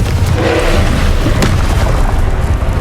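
The Confringo blasting spell in the Hogwarts Legacy video game goes off as a loud booming explosion, with a sharp burst near the middle amid a dense rumbling roar.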